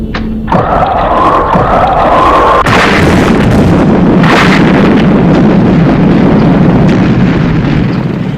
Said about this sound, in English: You've got to get that nose cone clear by firing the missiles.